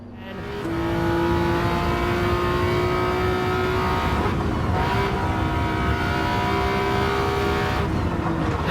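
A car in Gran Turismo 7 roars steadily at high revs after a brief quiet start, engine tone shifting slightly as it brakes and drives on, loud and continuous with no talk.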